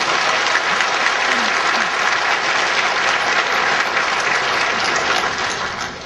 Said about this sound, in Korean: 우리 축복의 박수